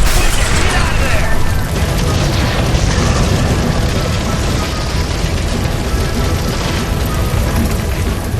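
A gas line by a stove explodes in L.A. Noire, leaving a loud, sustained roaring rumble that fills the whole stretch with dense, unbroken noise and faint voices mixed in.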